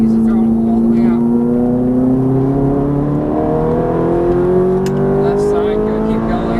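Ferrari F430 F1 accelerating hard on a race track at Exotics Racing Los Angeles, a loud steady engine note rising continuously in pitch as it pulls through the gear, heard from inside the car.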